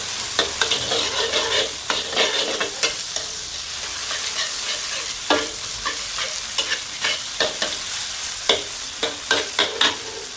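Garlic and small chili peppers stir-fried with Renrenhui Sichuan spicy sauce in a wok, a close, steady sizzle broken by repeated scraping strokes of the spatula, with no talking.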